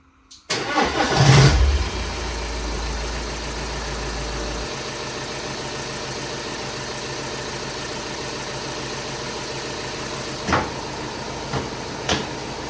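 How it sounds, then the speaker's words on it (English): An Audi with 277,000 kilometers cranks and fires up, the engine catching with a sharp surge and then dropping to a steady, smooth idle, with a couple of faint clicks and knocks later on. "I know everybody's with great anticipation to hear the Audi start up, so I might as well fire it up."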